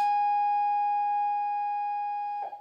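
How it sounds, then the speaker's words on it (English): A single steady electronic school bell tone rings loud and unbroken for a couple of seconds in a classroom, then cuts off abruptly. "They keep ringing bells on a day we're not even having classes."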